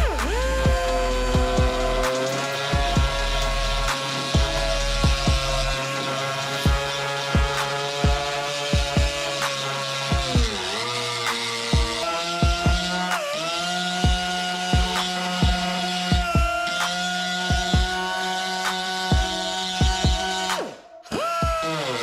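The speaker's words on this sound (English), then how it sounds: "I'll take my die grinder right now and clean that right up" A die grinder works over damaged car body metal on an S15 Silvia, a loud continuous high whine that dips in pitch under load with repeated scraping clicks, close by and with no talking.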